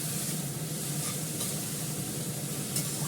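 Leafy saag greens cooking in a pan over low gas, giving off an even, continuous hiss and gentle sizzle that holds steady throughout, with faint stirring sounds now and then.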